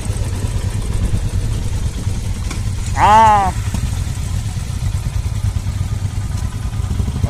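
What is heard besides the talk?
superbike motorcycle engines running, Kawasaki Z900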